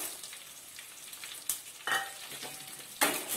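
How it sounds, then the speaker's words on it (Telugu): Chana dal and spices frying in oil give a soft, close sizzle, with a couple of sharp utensil scrapes and clinks against the pan over a few seconds. "ఇవన్నీ మంచిగా ఫ్రై కావాలి ఆయిల్లో"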